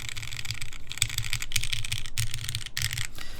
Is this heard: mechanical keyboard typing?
yes